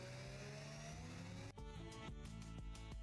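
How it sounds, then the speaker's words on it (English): A Formula 1 race car engine revs with a loud, climbing high-pitched whine for about a second and a half, then drops abruptly into choppy, pulsing bursts of engine sound. "I love the sound of F1 cars."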